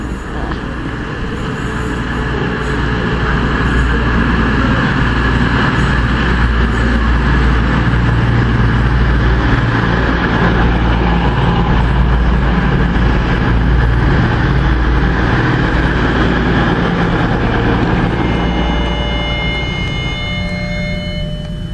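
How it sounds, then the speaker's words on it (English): Meridian passenger train of five coaches arriving at a platform, a loud continuous rumble of engines and wheels that swells and holds, with squealing brake tones rising near the end as it slows. "There we go, 5 coaches and it's a Meridian."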